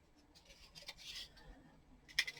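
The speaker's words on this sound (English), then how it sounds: "This one I'm going to be very careful to cut in between the little knobs." Scissors snip through burlap trim from Dollar Tree, faint close crisp cuts with a sharper pair of snips near the end, alone in a quiet room.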